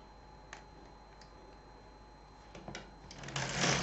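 A Silver Reed LK 150 knitting machine carriage works across rows of a sweater: light scattered clicks at first, then a building rush of sliding, rattling noise that grows louder toward the end.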